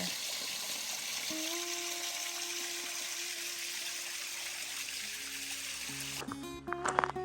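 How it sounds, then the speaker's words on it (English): Water runs steadily from a mountain waterfall in a continuous, fairly loud trickling wash with no break; a faint tonal hum sits underneath and a few clattering knocks come near the end. "When was the last time you got a drink out of a waterfall running out of a mountain?"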